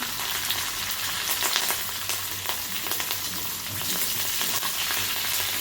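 Green chilies hitting hot oil in a pan where garlic is already cooking, giving a loud, steady crackling sizzle with small pops and occasional stirring throughout, with no voices.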